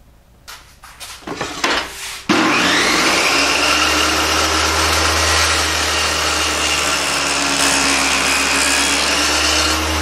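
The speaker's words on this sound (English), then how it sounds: "you want to drop your dado blade down just so you can take half of the material away" Table saw fitted with a dado blade cutting a half-depth groove in wood for a kitchen camp box divider: brief clatter as the saw starts, then a loud, steady whining cut with a low motor hum, sustained for most of the time.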